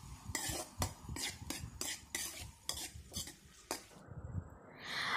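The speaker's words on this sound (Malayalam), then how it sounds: "അതിന് ശേഷം നല്ല രീതിയിൽ ഇതൊന്ന് ഇളക്കണം, നല്ലോണം ഒന്ന് മിക്സ് ചെയ്യണം." Chopped tomato is stirred in a pan, a spoon scraping and clacking in a quick rhythmic series of strokes over a soft sizzle, close and alone, ending in a brief hiss.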